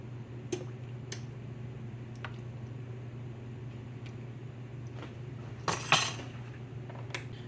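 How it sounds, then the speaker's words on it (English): A whisk stirs heavy cream into a deviled crab mixture, making faint, scattered metallic clinks against the bowl over a steady background hum. A brief louder scrape of clatter comes near the end. "And you're just going to whisk that in there."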